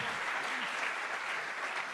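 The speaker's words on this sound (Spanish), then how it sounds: "Que alguien aplauda al Rey de la Gloria." A church congregation claps steadily, dense, sustained applause filling the room at an even level throughout.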